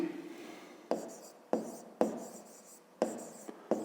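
Handwriting on paper, in a few short, crisp scratching strokes separated by brief pauses, recorded close and fairly quiet, with no voice.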